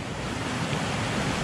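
Swirling river water at the Strid, a dense, steady rushing roar with no breaks, close and loud across the whole moment.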